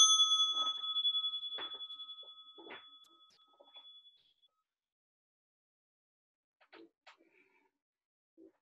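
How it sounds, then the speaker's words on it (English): A meditation bell is struck and rings with a clear sustained tone that slowly fades into silence, followed by a few faint, distant small sounds. "I'll ring the bell."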